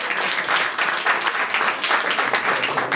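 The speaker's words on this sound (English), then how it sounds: "give him a round of applause" An audience applauding a speaker coming up to the stage, a loud, dense round of clapping from many people nearby that keeps a steady, slightly pulsing level throughout.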